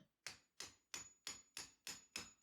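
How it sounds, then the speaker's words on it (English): A hammer strikes an Eames chair base, driving it off a tapered shaft in eight evenly spaced, sharp metallic blows heard up close with no talking. "So we just have to hammer them out"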